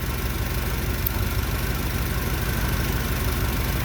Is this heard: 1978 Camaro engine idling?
yes